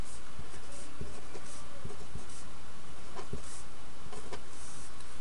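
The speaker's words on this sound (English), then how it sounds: "And I'm writing all these down so you can too, right?" A pen scratches out numbers on paper in short, irregular strokes and taps, close and fairly quiet against a steady background hiss, with no voices.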